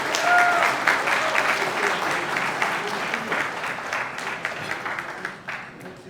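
An audience at the 2025 California Wrestling Hall of Fame Lifetime Service Awards gives Bruce Terry a round of applause, steady full clapping that slowly tapers, with faint voices mixed in.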